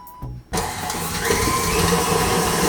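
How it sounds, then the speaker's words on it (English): Stand mixer with a whisk attachment kicks on at high speed and keeps up a steady, loud motor whir with a high whine, mixing sugar for cake pops. "So we will be mixing using the whisk attachment, and we'll be mixing on high."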